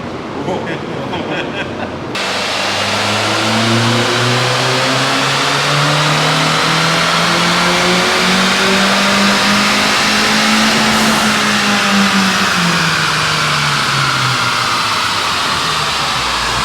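A 2023 Acura Integra A-Spec engine revs steadily through a dyno pull, its tone climbing for several seconds before easing off, loud and continuous after a short quieter opening with voices.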